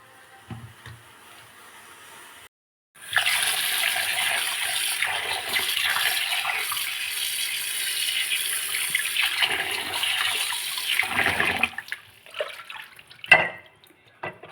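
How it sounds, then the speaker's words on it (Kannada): Fish is washed by hand in water with salt and turmeric for frying, making a steady splashing, swishing wash that runs for about nine seconds before tapering into a few softer sloshes and drips. "ಫಿಶ್ ನೀಟಾಗಿ ತೊಳಿಬೇಕು"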